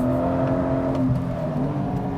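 A Porsche 718 GTS 4.0 works through the gears on a racetrack heading into a chicane. The engine note holds loud and steady, then dips and shifts pitch through the gear change, close and with no talk.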